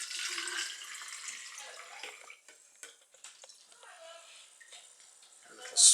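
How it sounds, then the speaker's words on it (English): Liquid is poured from a container into a bottle, starting as a steady trickling gush that thins into broken drips and gurgles. A sharp louder splash comes right at the end. "I'm going to pour the rest in."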